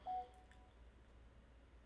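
A short electronic beep from a mobile phone sounds once near the start, a brief clear tone, then only faint room hiss follows.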